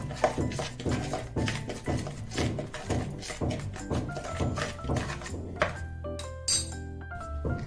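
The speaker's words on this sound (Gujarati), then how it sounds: "હવે તેની અંદર 2 ચમચી આપણે ચોખાનો લોટ નાખીશું. આ બધી વસ્તુ આપણે મિક્સ કરી લઈશું." A spoon stirs salt, rice flour and masala together in a bowl, giving a quick, rhythmic run of light clinks and scrapes at close range over faint background music.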